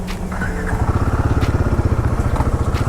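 A Royal Enfield Guerrilla 450 motorcycle idles close by with a steady, rhythmic thumping pulse that holds evenly throughout.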